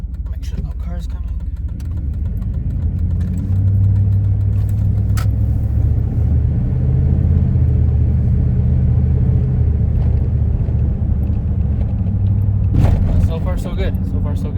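A 1998 Dodge Ram pickup truck engine hums low and steady as it drives, with a rising rumble midway and someone speaking over the road noise.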